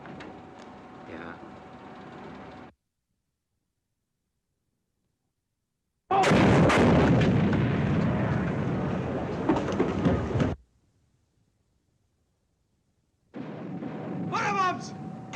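Wartime bomb explosions in a naval battle scene, with two dense bursts of heavy rumbling blasts separated by silence, the longest lasting several seconds, loud and close amid ship action.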